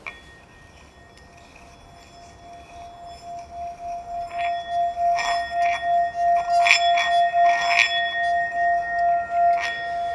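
A rubbed drinking glass sings with a steady ringing tone that swells into a series of pulsing, bell-like resonant waves as the rubbing continues, growing louder toward the end.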